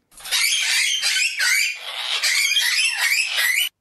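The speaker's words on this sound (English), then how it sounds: "And here are their voices vocalizing in a more bird-like way." A pet parrot squawks and chatters in a continuous run of loud, raspy, bird-like calls, close to the microphone and with no talk over it.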